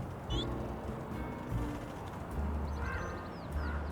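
Duck quacking in the video game Little Kitty, Big City: a few short nasal calls near the start and again near the end, over a steady low game background hum.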